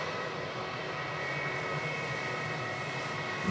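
An Asiana airliner's jet engines spool up at Sydney Airport, heard as a faint, distant steady whine and rumble with no voices over it.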